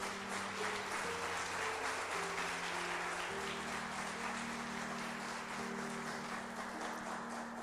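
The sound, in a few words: church congregation applause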